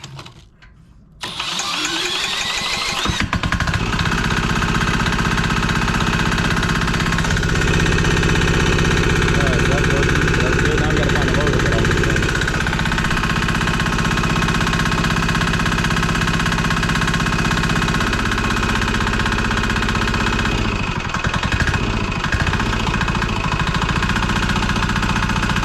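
A diesel engine generator bought from Amazon cranks briefly, catches and settles into a loud, steady idle with a knocking hum that keeps going, alone and close by.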